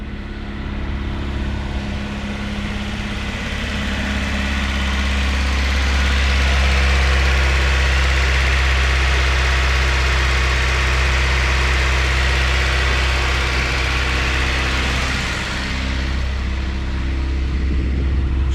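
Acura Integra engine idling with a mild exhaust, a steady low rumble held close and loud throughout with no talking.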